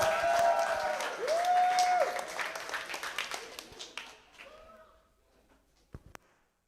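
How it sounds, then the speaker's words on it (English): Applause from a conference audience at a developer camp in Manila as a presenter is welcomed, moderately loud clapping that fades out over several seconds, with a few scattered claps and faint room noise trailing off. "Let's give him a round of applause."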